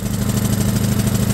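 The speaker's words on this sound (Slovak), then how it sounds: "Pred zaťažením je dobré motor nehať zohriať, nehať na voľnobeh 3-4 minútky" An Excellway 2200W petrol generator engine idles nearby with a loud, steady, even chug and a faint rhythmic pulse, with no voices.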